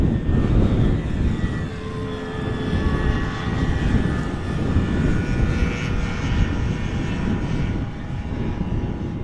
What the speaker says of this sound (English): Taking off from runway 24.